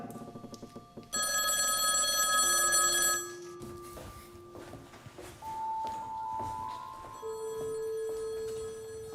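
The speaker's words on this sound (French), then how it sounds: "Je vous interdis de répondre à ce téléphone." A telephone bell rings loudly in steady repeated bursts in a comedy spy film scene, followed by quieter tones and room noise with no talk.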